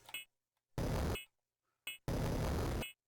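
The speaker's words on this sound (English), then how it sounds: "It's blowing up through there." Two loud bursts of explosion effects from the Oxyd puzzle game on a NeXT computer, each roughly half a second to a second long, separated by silence and framed by short chime-like tones.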